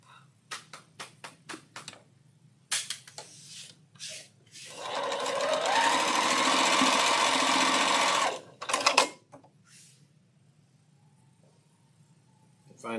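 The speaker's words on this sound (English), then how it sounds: "I think all we got to do is sew them together." A sewing machine runs in one continuous loud burst of rapid stitching for about four seconds while joining pink quilt block pieces, with short clicks and handling noises and brief bits of talk before and after.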